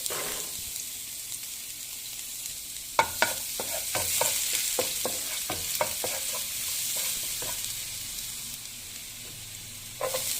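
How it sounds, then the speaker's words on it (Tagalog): Garlic sautéing in hot cooking oil gives a continuous sizzle, broken by a series of sharp scraping stirs and spatula knocks against the pan, close and fairly loud, with no talking. "So, maglalagay tayo ulit ng cooking oil, guys, kasi magigisa na tayo."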